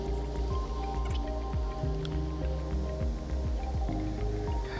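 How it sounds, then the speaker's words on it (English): Water poured onto the soil around a newly planted Summer Royal Seedless grapevine seedling, a close, continuous bubbling and dripping with repeated gurgling drops soaking into the ground, no voices. "I water it in so there's no air pockets."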